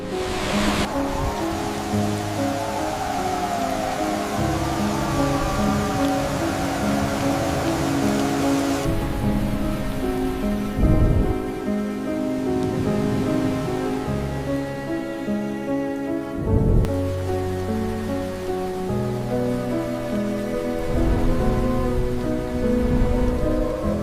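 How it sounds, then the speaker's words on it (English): Heavy rain pours down during flooding, a dense, continuous hiss of water on surfaces lasting the whole stretch, with background music running underneath and no talking. "Rain doesn't just fall, it pours down."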